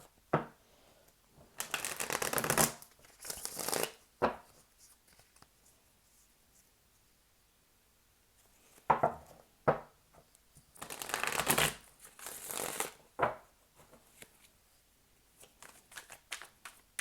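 Tarot cards shuffled in several bursts, a dry riffling and flicking at close range with quiet gaps between, no talk.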